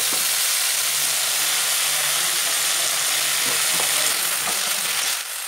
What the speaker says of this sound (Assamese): এতিয়া অলপ ৰঙা হোৱালৈকে ভাজি ল'ম